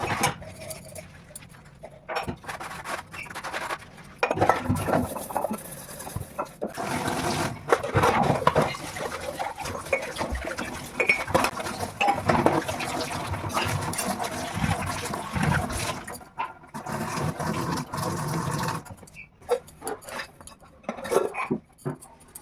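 Dishes being washed in a home kitchen after a breakfast of tea and biscuits, with running water and repeated clinks and clatters of cutlery and crockery, irregular and close, without talk.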